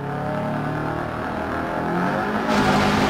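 Rally car engine driving hard on the Flying Finland gravel stage in the video game DiRT Rally, a steady loud drone that rises in pitch as it revs up near the end, heard alone.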